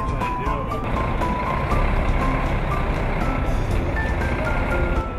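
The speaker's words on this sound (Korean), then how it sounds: "학생들을 태울 버스가 도착했습니다" A bus pulls up to collect students, its engine rumbling steadily while a reversing alarm beeps in a regular repeating pattern, fairly loud and close throughout.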